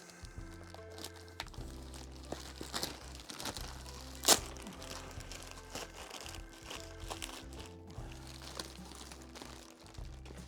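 A plastic shipping bag holding cheap LED video lights is torn open up close, with steady crinkling and rustling and one sharp ripping burst partway through.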